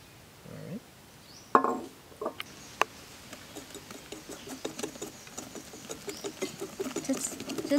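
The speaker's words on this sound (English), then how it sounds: "Just whisk it nicely with the chocolate." Butter and chocolate get whisked together in a bowl for chocolate crinkle cookies, a close rapid patter of scraping and tapping strokes that grows steadier and busier, with a few sharp clinks and brief speech early on.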